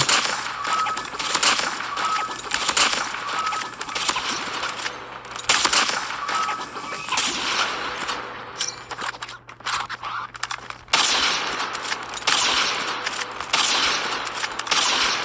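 Gunfire from the mobile shooter game Call of Duty Mobile, heard as fast, repeated bursts of shots over a steady hum, with short quiet gaps between volleys.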